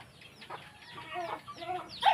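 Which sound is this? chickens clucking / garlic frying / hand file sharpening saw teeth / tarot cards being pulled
chickens clucking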